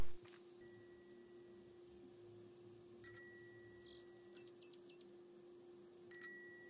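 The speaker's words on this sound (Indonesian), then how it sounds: "Ini denger suara lonceng dah." A bell in the video game Raft rings three times, each a short, bright chime spaced about three seconds apart, fairly quiet over a steady low in-game hum.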